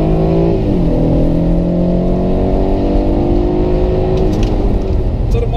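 BMW F30 engine revving under acceleration, a loud continuous engine roar with rising tones as the car picks up speed, heard from inside the cabin.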